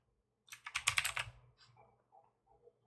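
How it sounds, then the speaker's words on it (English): Quick typing on a laptop keyboard entering a search into the search bar: a brief burst of close, crisp keystrokes, then a few lighter, scattered clicks that fade into silence. "type power and sleep."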